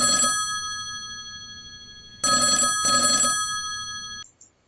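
A telephone bell rings in two bursts, one short ring, a pause, then a double ring, loud and close with no one talking.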